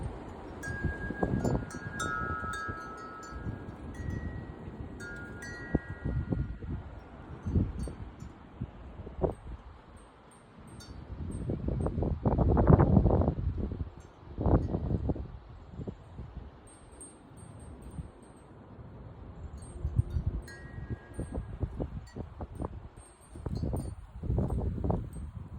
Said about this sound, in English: Much stronger wind gusts coming toward the center.